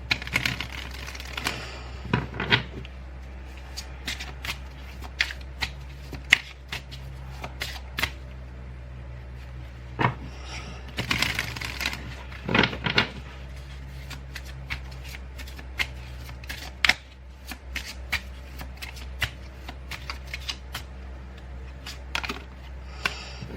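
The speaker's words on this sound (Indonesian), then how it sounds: "Oke, aku shuffle kartunya ya." Tarot cards being shuffled by hand at close range, a steady run of papery riffles and slaps with brief pauses, alone with no talk.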